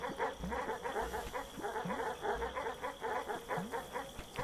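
Dogs in the background, a faint, repeated yapping and barking in a steady rhythm, distant and low under other noise.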